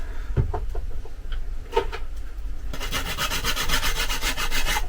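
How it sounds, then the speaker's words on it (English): Hand file rasping across wood while building a mitre saw station, a steady run of quick scraping strokes up close that grows denser and louder in the second half, with no talk. "or file it down like I am, it just gives it a little bit extra room for the sawdust to go on"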